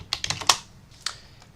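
Quick bursts of typing on a computer keyboard, a handful of close, crisp keystrokes clustered in the first half second, then one or two isolated taps before it falls quiet.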